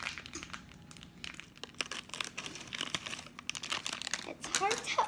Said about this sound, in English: first you need to get your pound cake, and you're gonna need to open it.